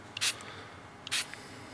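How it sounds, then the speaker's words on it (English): Two short hissing bursts of Mil-Comm and Frog Lube gun lubricant sprayed as a fine mist, each a quick close puff about a second apart, with a couple of small clicks from the nozzle between them. "we're going to spray it again. Give another mist"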